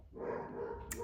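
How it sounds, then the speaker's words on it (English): Pet dogs bark indoors, a short, faint yelp heard alone in the background. "They are always barking at the most inopportune times."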